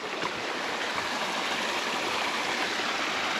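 A river rushes steadily through a mountain creek, a constant broadband wash of flowing water, close and loud, with no voices over it.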